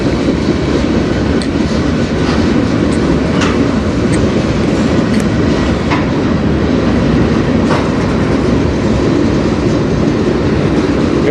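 A long freight train rolls past close by on the Strathroy Subdivision, a loud continuous rumble of railcars with steady wheel clatter and occasional squeals, no voices over it.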